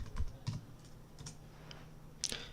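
A short command being typed on a computer keyboard, heard as a few faint, scattered key taps close by in a quiet room.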